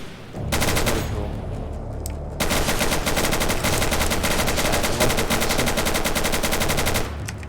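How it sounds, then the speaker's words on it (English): Scripted machine gun in the game Ancient Warfare 3 fires long sustained bursts of rapid, loud automatic gunfire, with a brief pause near the start before the continuous stream resumes. "see, that's a scripted machine gun"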